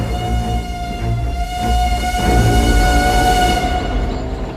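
A train rolls along in a film scene set in Transylvania, a sustained droning horn-like tone over rumbling wheels, loud and continuous.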